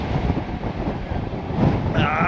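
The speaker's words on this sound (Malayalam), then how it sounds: "നല്ല കാറ്റുണ്ട് കേട്ടോ" Strong wind near hot pools in New Zealand buffets the microphone in a steady low rumble throughout, with a faint voice and some whistling noise near the end.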